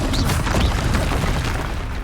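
Confringo spell blast in the video game Hogwarts Legacy, a dense, sustained booming rumble of fiery explosion lasting a couple of seconds, loud and close with no voice over it.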